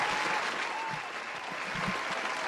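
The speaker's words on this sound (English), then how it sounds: "I'm hitting a round of applause in case Webb is home." A canned round of applause plays on a hip-hop podcast, dense and steady clapping from a crowd lasting a couple of seconds at moderate volume, with no talking over it.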